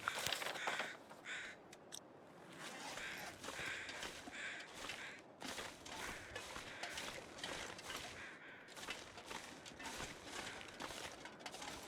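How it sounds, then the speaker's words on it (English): Crows caw repeatedly in a snowy wilderness town in The Long Dark, calls coming in irregular bursts over a steady outdoor ambience, fairly close and clear with no talking. "Hear the crows."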